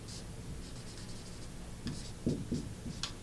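A pen scratches out an electric field vector on paper, faint short strokes and taps near the end of an otherwise quiet stretch.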